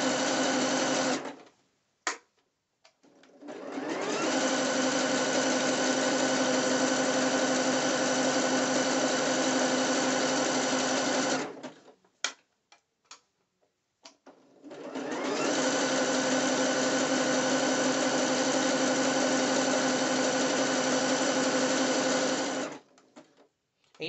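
A sewing machine stitches 3/8-inch elastic onto two-piece dancewear, running in two long, steady bursts of about eight seconds each, with short stops and a few brief stitches between them.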